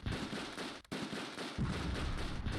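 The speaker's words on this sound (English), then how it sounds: "Alright, you guys just start dropping mortars wherever you can." Mortar fire in the Close Combat II war game: a dense burst of crackling, popping blasts and debris noise, with a brief gap and then a heavier thumping rumble, moderately loud with no talk.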